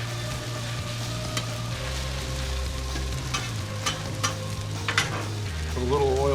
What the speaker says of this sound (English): I'm going to throw the corned beef hash on